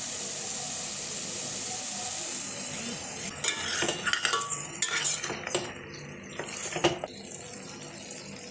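Curd stirred into mutton biryani masala in a hot pan, a steady bright sizzle and hiss that gives way to scraping, clinking spoon strokes against the vessel, close by with no talking.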